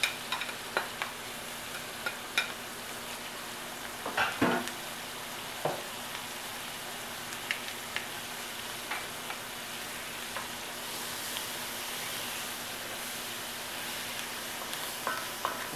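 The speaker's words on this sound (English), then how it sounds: "Smidge more olive oil. And we're going to get" Onion frying in a little olive oil in a pan that still holds bits left from cooking steak, with a steady soft sizzle and occasional scraping clicks of stirring throughout.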